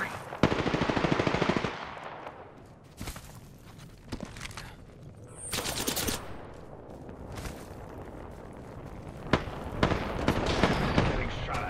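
Bursts of rapid automatic gunfire and single shots in Apex Legends, loud close volleys broken by short gaps, with footsteps and scattered effects between them.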